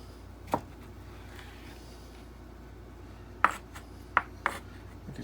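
A kitchen knife slicing smoked hobo hot dogs for burnt ends, heard as a few sharp, spaced taps of the blade against the board, quiet and close over a faint background hum.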